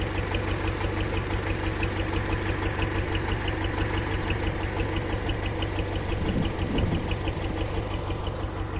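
A tractor's diesel engine chugs steadily at a constant rhythm while running a baler, with a rattling mechanical clatter running alongside it throughout.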